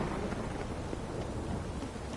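Steady rain pours in The Witcher 3: Wild Hunt, a constant broadband hiss with a low rumble beneath, unbroken and even throughout with no voices.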